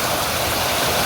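Olippara waterfall pours in a steady, dense rush of falling water, loud and continuous with no pauses or voices.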